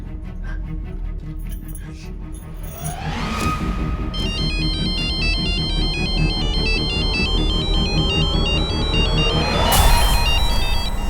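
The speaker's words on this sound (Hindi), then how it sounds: "प्लीज मेरे फोन पे रिंग करोगी क्या?" A mobile phone ringtone plays loud and close, a repeating electronic melody swelling over several seconds and continuing steadily to the end, with a low background hum beneath.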